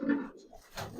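Giribaz pigeons coo softly nearby, a short burst of low throaty calls in a brief, fairly quiet moment.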